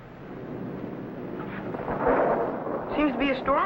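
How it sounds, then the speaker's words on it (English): Thunder from an approaching storm: a low, rolling rumble that builds and swells over a few seconds, with a voice speaking briefly toward the end. "Seems to be a storm coming out."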